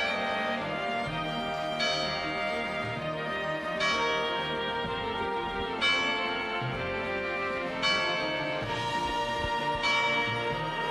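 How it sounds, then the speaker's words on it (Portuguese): A church bell tolls repeatedly during a town festival opening procession, each resonant strike coming about every two seconds and ringing out with a long metallic decay, loud and steady. "Bom, mais uma vez, toca o sino,"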